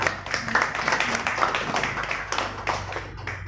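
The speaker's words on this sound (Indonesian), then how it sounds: "tepuk tangan." An audience claps as speakers are welcomed to the front at a regional economic recovery event in Tegal. The applause is moderate and steady with irregular individual claps throughout.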